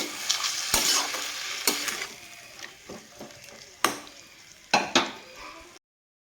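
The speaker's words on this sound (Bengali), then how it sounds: "সামান্য পরিমাণে জল দিয়ে সবজিটাকে ভালোভাবে কষিয়ে নিব" Spinach and mixed vegetables with cumin and coriander powder cooking down with a little water in a pan: a soft bubbling sizzle broken by several loud spatula scrapes and clanks, close by, ending in sudden silence.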